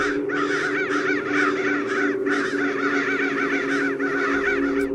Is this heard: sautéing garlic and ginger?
no